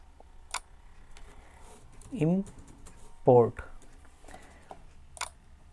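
Code is typed on a computer keyboard in sparse, scattered clicks at close range, with short bursts of a voice in between.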